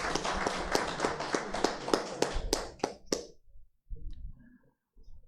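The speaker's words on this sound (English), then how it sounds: "Let's give the minister another round of applause" Applause at a closing ceremony for an agricultural land bank agri-business training course, heard as sharp, spaced hand claps in a loose rhythm that thin out and stop after about three seconds, followed by quiet shuffling sounds.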